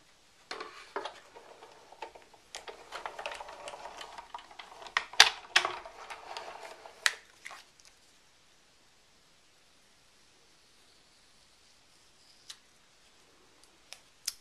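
A card goes through an Evolution die-cutting machine: a run of close, crisp ticking and clicking from the cranked rollers for several seconds, then near silence with a couple of faint clicks.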